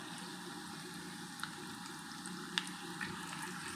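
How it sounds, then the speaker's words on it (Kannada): Urad dal, cumin and other seeds frying in hot oil for a tempering, a steady soft broadband sizzle with a few faint pops, fairly quiet and without talk. "ಸ್ವಲ್ಪ ಫ್ರೈ ಮಾಡ್ಕೋಬೇಕು"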